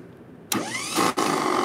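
A small pony engine, the starting motor on a tractor, catches and fires up abruptly, then settles into a loud, rough running roar close by with a brief stutter, no talking.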